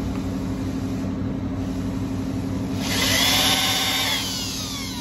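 A power drill with a sharp-point tungsten carbide cross-cut bit boring into a sable shofar horn, a steady motor whine under a constant low hum that swells into a brighter grinding bite for about a second before easing off.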